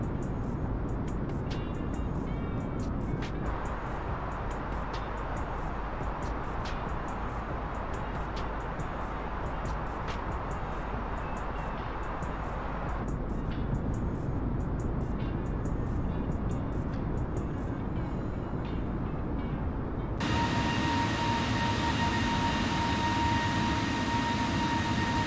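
Steady, loud airliner engine and airflow roar from Microsoft Flight Simulator, heard from an exterior camera, continuous throughout with a shift to a brighter whining tone near the end.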